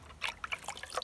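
Fertilizer water trickles and splashes briefly onto potted plants on a drought-hit Jamaican farm, a close, faint pour lasting about a second.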